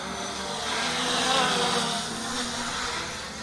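A MJX Bugs 3 Pro GPS camera drone flies forward at full throttle, its steady broadband propeller whine and buzz continuous and fairly close throughout, swelling slightly in the middle.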